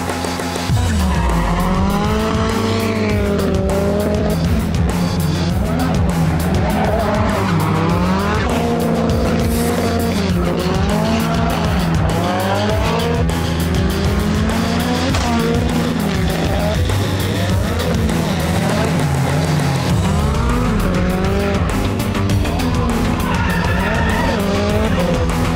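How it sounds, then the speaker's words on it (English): Race car drifting at Yas Marina Circuit, with long, loud tire squeals sweeping up and down over a roaring engine, repeating in waves throughout with no speech. "Watch me drift here at Yas Marina Circuit."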